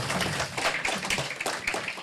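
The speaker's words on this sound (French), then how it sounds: "on peut les applaudir" Audience at a talk on digital audio advertising applauding, a dense continuous patter of many hands clapping, fairly close and steady for the whole stretch.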